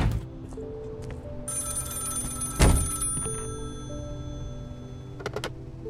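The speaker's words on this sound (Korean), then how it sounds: "그러던 어느 날 검문소로 긴급한 전화가 걸려오게 됩니다." A checkpoint telephone in the Contraband Police video game rings with a bright electronic bell, sounding in a couple of sustained bursts with a sharp thump between them over quiet low ambience.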